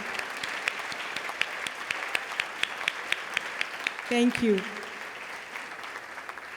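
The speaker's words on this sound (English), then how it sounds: "Let's give them a round of applause." Gala audience applause at an Armenian newspaper's 90th anniversary celebration, a fairly distant, sustained round of clapping with a few sharper claps standing out, and a brief voice speaking over it partway through.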